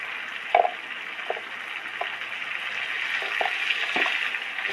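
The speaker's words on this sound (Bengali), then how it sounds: "সবজি ভাজাই হচ্ছে" Vegetables frying in a pan give a steady, close hiss of sizzling oil across the whole stretch, broken by a few light clicks and taps, likely a spoon or utensil against the cookware, with no speech.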